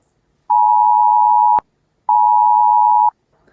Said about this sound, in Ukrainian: Гучний сигнал разом із вібрацією триватиме приблизно 15-20 секунд або до моменту вимкнення його людини